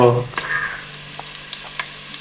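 Onions and green chillies frying in a pan for chicken biryani give a brief close sizzle, a voice heard at the very start, followed by a few light stirring clicks.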